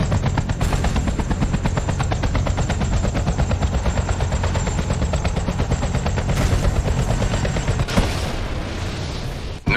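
Sustained automatic gunfire in Battlefield 2: Modern Combat, a dense rapid rattle running continuously and loud for nearly the whole stretch, with a heavier burst or impact near the end.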